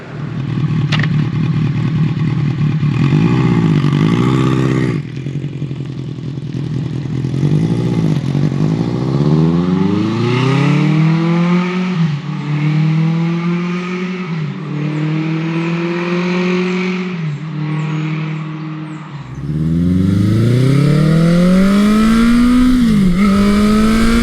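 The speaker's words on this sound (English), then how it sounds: "I'm currently riding Honda's 1982 CB900" A 1982 Honda CB900 Custom motorcycle revs up through repeated rising gear pulls while being ridden, loud and close, each climb dropping back before the next surge, with no talking.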